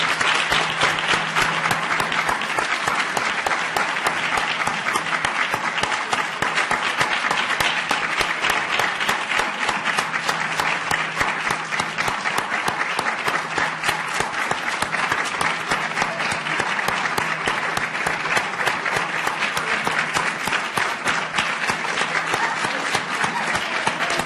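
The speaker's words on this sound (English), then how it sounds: "let's give them a round of applause" A symposium audience gives the morning's panelists and program representatives a long round of applause, dense steady clapping from a large crowd that holds at full strength throughout.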